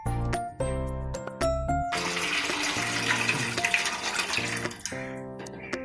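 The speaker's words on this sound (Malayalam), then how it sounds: "അതിനോട് തന്നെ ബാക്കി വെള്ളം കൂടെ നമുക്ക് ഒഴിച്ചു കൊടുക്കാം" Water pours steadily into a pot of chicken kabsa for about three seconds, a loud, continuous splashing gush, with tonal music before and after.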